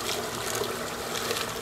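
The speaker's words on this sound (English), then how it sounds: "Water draining in there" Water trickles and drains steadily out of a gold panning sluice, a close, continuous wet dribbling wash with no voices over it.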